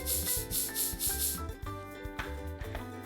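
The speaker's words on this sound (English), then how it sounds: "Now let's pour in some flour." Flour is poured into a toy mixing bowl in a Minnie Mouse play kitchen, heard as a run of short, soft, gritty rustling bursts over a steady musical backing.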